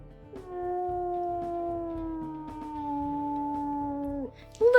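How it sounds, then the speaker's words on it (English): A wolf character gives a long, sustained howl lasting about four seconds, first mid-pitched and then sliding slightly lower before it cuts off, followed by a brief higher yip at the end. "We'll also listen to his howls."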